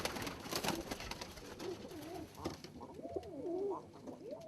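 A pigeon coos in a series of soft, rolling, wavering calls. The cooing is close and clear over a faint background rustle, with no one talking.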